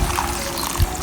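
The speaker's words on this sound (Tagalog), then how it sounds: "Some hot water in that thing." Hot water poured into a cooking pot of munggo, a soft, steady trickling wash that runs for about a second.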